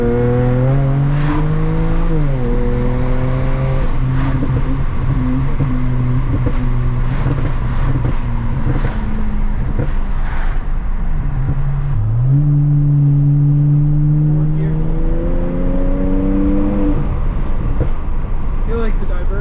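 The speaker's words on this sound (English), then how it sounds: "we're gonna do one more anti-lag" BMW 335i engine under heavy revs with anti-lag, a loud sustained drone that climbs and falls in pitch twice, with sharp pops and crackles scattered through, close and dominant throughout.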